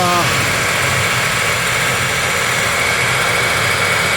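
A 2006 BMW E61 530xi engine runs at a steady idle with the exhaust shaking, giving a constant broadband rumble with no change in pitch throughout.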